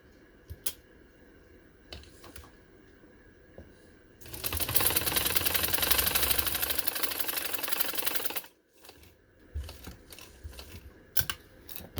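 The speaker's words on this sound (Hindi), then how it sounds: "ये देखिए, अब मैं लगाने लगी मशीन से सिलाई।" A domestic sewing machine stitches a neck design onto a shirt in one continuous, close whirring run of about four seconds, framed by quieter handling clicks and rustles.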